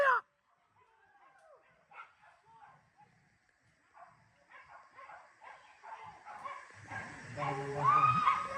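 Dogs on a wild boar hunt yip, whimper and bark in short bursts, growing louder and more frantic toward the end, with people talking nearby.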